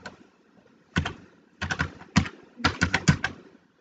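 Bursts of fast typing on a computer keyboard, close and clear, with a short silent pause before each cluster of clicking keystrokes and no voices.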